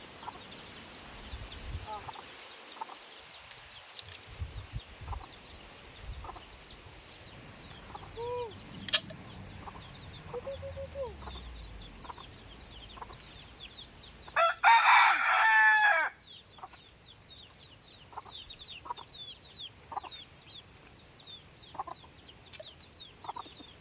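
Backyard chickens clucking softly in a steady scatter of calls, with a rooster crowing loudly once midway; a faint voice is heard briefly in the background.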